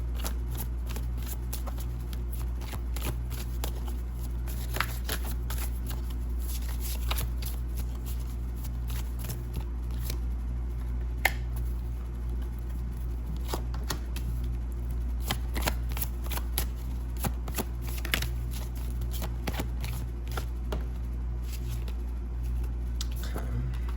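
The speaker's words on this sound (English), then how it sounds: "Let's go ahead and get a card from your mirror oracle cards" A deck of mirror oracle cards is shuffled continuously for a long stretch, a steady soft riffling patter with frequent light slaps and ticks over a low constant hum, close up and with no talking.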